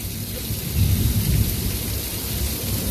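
Artificial rain and thunder effect on a studio backlot tour: steady heavy rain hiss with a low rumbling thunder roll swelling in the middle, loud and enveloping, no talk.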